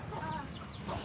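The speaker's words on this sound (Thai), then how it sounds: "ไก่เข้าเฮือนแล้วบัดนี้ไก่ขี้ใส่เฮือน" A chicken clucks inside a house in rural Laos that has no electricity, several close, clear calls over a steady low background hum.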